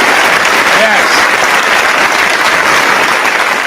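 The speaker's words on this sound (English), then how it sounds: "Give yourself a round of applause." A live studio audience gives a round of applause, dense continuous clapping that stays loud and even from start to finish with no talking over it.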